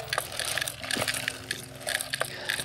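A hand-pushed manual seed drill rolls over soil, giving a near, continuous crunching and crackling with gritty scraping pulses and small cracks, steady across the few seconds.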